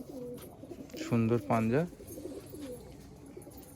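Punjabi Malwai pigeons coo softly nearby, with a brief burst of calling in the middle, while someone talks over them.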